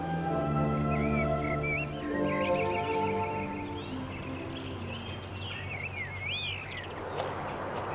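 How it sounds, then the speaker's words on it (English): Blackbird singing in a garden, fluting whistled phrases and twitters repeating over a steady low rumble of background noise. "Blackbird."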